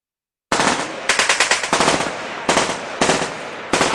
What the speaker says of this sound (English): We got gunshots out here.